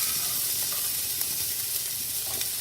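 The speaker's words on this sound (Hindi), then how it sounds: "के अंदर मैं ऐड कर दूंगी ये मटन जो हमने मैरिनेट किया था" Marinated mutton sizzling in a hot pan, a steady close hiss and crackle with faint stirring scrapes throughout, no talking.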